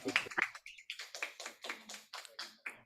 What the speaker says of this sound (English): Let's have a big round of applause for Coach Fauzi and also Bala, Mr. Bala.